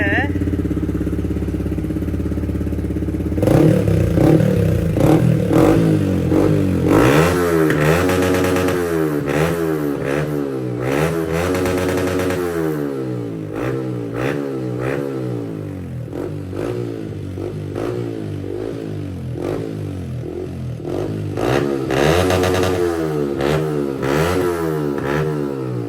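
A Yamaha MT15 motorcycle with an Akrapovic exhaust idles nearby, then revs repeatedly in sharp rising and falling bursts between stretches of steady throbbing, loud and close.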